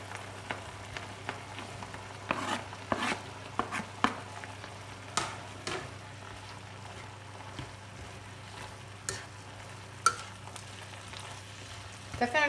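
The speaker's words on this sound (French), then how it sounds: "Je vais incorporer donc mon aubergine." Aubergine frying in a pan, a soft continuous sizzle broken by sharp scrapes and taps as a utensil stirs it in, fairly quiet and close.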